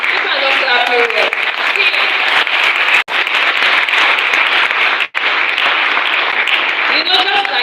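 Youth development workshop crowd clapping in a sustained, dense round of applause, broken by two brief dips before carrying on loudly to the end.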